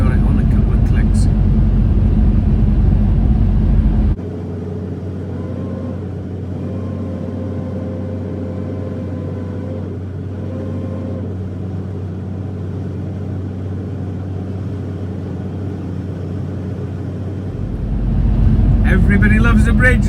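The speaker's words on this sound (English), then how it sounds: "Just letting the engine brake and gearbox retarder do its stuff now coming down here." Heavy truck descending a long downhill grade in Italy with the engine brake and gearbox retarder engaged, a steady deep droning rumble that holds for most of the stretch before the engine note rises again.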